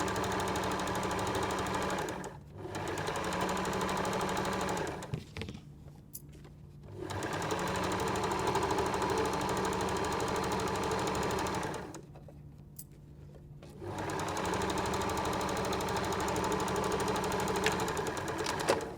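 A sewing machine runs a zigzag stitch on a peg bag in three long, steady, buzzing runs, with brief pauses between them, close and alone.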